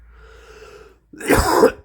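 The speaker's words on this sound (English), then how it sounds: "so I have to cough" A single hard, close cough bursts out after a faint, hissy breath-like lead-in and a brief pause.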